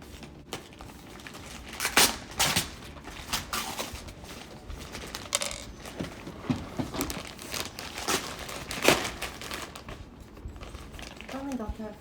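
Adhesive tape crinkles and rips while being handled and stuck onto a bag, giving scattered close crackles and short tearing bursts over about twelve seconds.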